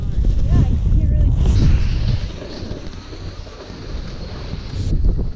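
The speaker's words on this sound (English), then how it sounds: "This blizzard came in out of nowhere." Strong gusting blizzard wind roaring across a Breckenridge, Colorado ski slope, a loud buffeting rush that batters the microphone, eases slightly midway and then surges again.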